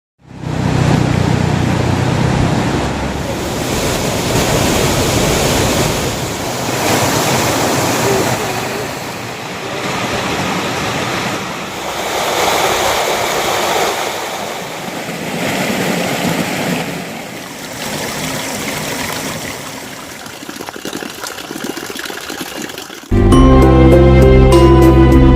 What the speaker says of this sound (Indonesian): kita akan menyeberangi sungai yang ada di hadapan kita itu